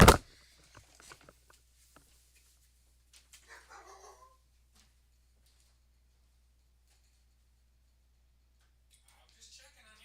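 Dogs bark outdoors in cold, snowy weather, in a few short, scattered bursts that sound faint and distant after one loud knock at the start.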